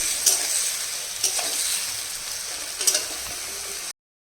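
Chopped ridge gourd fries in a hot pan with fish as it is salted and stirred, a steady loud sizzle broken by a few sharp spatula scrapes and clicks, then sudden silence at the end.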